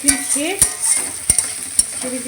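Fish curry, macher jhal, cooks in a pan with a soft sizzle and a few sharp utensil clinks, brief and close in a home kitchen.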